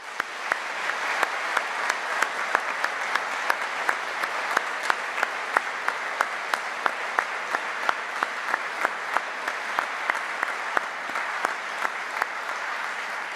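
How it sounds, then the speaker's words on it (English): Family and friends at a university medicine graduation ceremony applaud the graduates in sustained, full-room clapping, a dense steady roar with individual louder claps standing out, lasting well over ten seconds. "I'd invite your family and friends to applaud you now for what you've actually managed to do."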